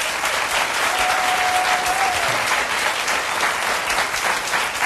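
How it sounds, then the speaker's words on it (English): A studio audience at a talk show gives a panel of guests a sustained round of applause, a dense, even wash of clapping that holds steady and fairly loud throughout. "Please give my panel a round of applause"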